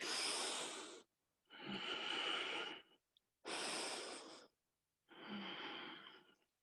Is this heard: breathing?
yes